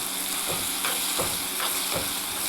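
Chopped tomato and curry leaves fry in a pan with a loud, steady sizzle, and stirring strokes scrape through it every half second or so.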